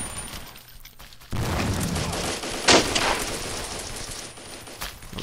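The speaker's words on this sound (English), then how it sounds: "That was a waste of a rocket." A rocket fires in the Blockade 3D first-person shooter, a sharp blast near the middle over steady loud game noise and gunfire, with a fainter burst near the end.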